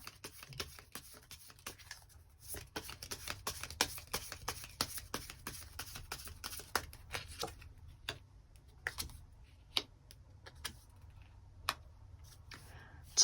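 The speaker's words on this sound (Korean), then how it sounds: "추가 카드로 뽑아보도록 하겠습니다" Tarot cards being shuffled and drawn for a love reading, giving soft, irregular clicks and flicks of card stock at close range, fairly quiet, with no talking.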